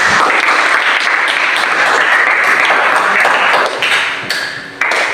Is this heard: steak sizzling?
no